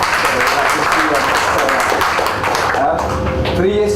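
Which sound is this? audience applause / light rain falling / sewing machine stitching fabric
audience applause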